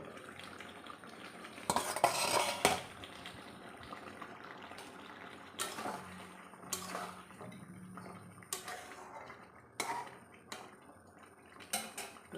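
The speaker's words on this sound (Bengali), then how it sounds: "ঢাকা খুলে এবার আমি একটু নেড়ে দেবো।" Food in a covered pot of potatoes is stirred once the lid comes off, with several sharp clanks and scrapes of a utensil against the metal pot over a faint background, alone without talk.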